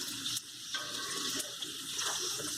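Bhatura deep-fries in hot oil on a high flame, giving a steady, faint, hissing sizzle with soft bubbling that continues without a break.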